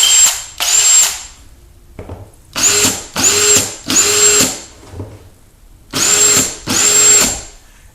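A Porter Cable 20V cordless impact driver whirs in short repeated bursts, about seven high-pitched spins with brief pauses between, loud and close.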